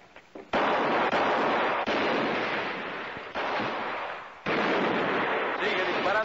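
Sustained gunfire roars in several long, loud bursts separated by brief gaps, with a few sharp shots at the start.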